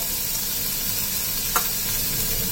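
Chopped tomato and sliced coconut sauté in a pan with a steady, moderately loud sizzle, broken once by a brief clink midway.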